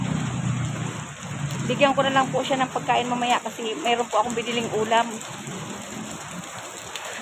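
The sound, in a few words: heavy rain falling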